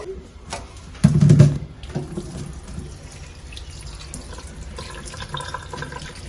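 Hollowed-out pumpkins rinsed under a running kitchen tap for a Khmer pumpkin custard, steady faucet flow with a loud splashing burst early on as the water hits, then a continuous close stream with handling sounds.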